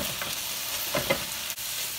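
Sausage with onions and peppers being stirred in a frying pan, a soft sizzle running throughout with a few brief scraping strokes, close and moderately loud, no voices.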